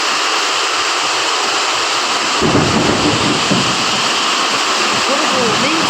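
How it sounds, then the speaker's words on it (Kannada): A thunderstorm with heavy rain pours steadily outside a doorway, a dense constant hiss, while a deep rumble of thunder swells in the middle and fades; loud and close throughout. "ಗುಡುಗು ಮಿಂಚು ಮಳೆ."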